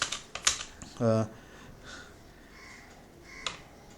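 Keys clatter on a computer keyboard as a chatbot prompt is typed, a few quick clustered taps near the start and another later, with a brief low hum between them and quiet room tone.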